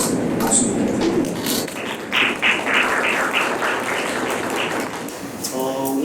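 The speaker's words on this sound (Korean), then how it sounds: "박수 부탁드립니다." An audience at an academic conference on Korean independence-movement history claps steadily for about six seconds, a dense, sustained roomful of hands with a faint voice underneath.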